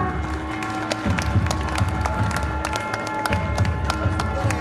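Loud audience applause at a national environmental conference award ceremony, with dense, sustained clapping over a steady crowd hum and low background drone throughout.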